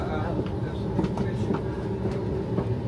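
A train stands at a station platform as new passengers arrive to board, giving a steady rumble with faint rhythmic clicks and background bustle.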